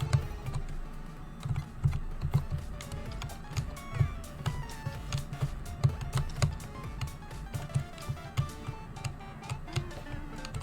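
Computer keyboard keys clicking in quick, uneven bursts during Holocure play, with a steady rhythmic low game soundtrack underneath.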